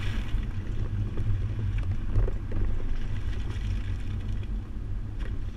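A 2011 Subaru Forester carrying a Kuat NV 2.0 two-bike rack runs a slalom course, heard as a steady, full low rumble of road and wind noise without pause and with no talking.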